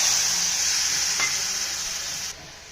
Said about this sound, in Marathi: तर शेवटी आता नारळाचं दूध आता ओतून घेते